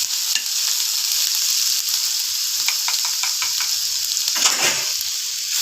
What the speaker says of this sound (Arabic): شوح فص توم صغير كده